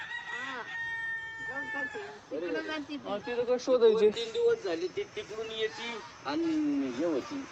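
Chickens cluck and call close by in a busy, uneven stream of short calls, with people talking among them.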